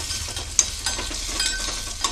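Ripe red chillies frying in oil in a pan, a continuous soft sizzle with crackles and occasional stirring scrapes, close and fairly quiet.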